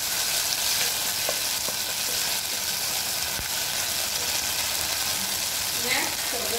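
Tomato paste frying in a pan with golden-browned garlic while being stirred, a steady broadband sizzle running throughout with a few faint scraping touches.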